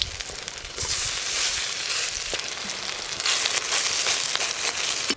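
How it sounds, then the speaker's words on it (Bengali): Pumpkin flower fritters frying in hot mustard oil give a steady, loud sizzle with constant crackling and occasional pops, close up and without talk. "আর কিছুক্ষণের মধ্যেই এই বড়াগুলো ভাজা হয়ে যাবে।"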